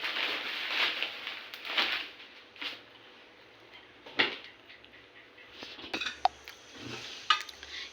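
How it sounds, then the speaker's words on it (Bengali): Flattened rice (chire) being mixed with spices by hand in a bowl for a fried chire snack, with soft scattered rustling, scraping and light clinks from utensils, fairly quiet and close, with no talking. "এবার এতে মশলা দিয়ে মাখাতে হবে।"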